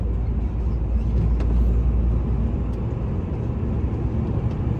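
A vehicle descends a snowy, slippery mountain pass past Tynda, its engine and tyres making a loud, steady, low rumble with road noise that continues unbroken and without talk.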